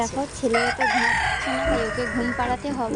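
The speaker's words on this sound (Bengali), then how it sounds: "আমাদের বাড়ি মোরগটা যা ডাকে" A loud rooster crow rings out close by, with clucking fowl, while a person speaks over it.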